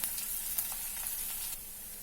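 Onion fries in a pan for a Vidarbha-style besan pitla, giving a soft, even sizzle with a few faint stirring clicks, close but fairly quiet.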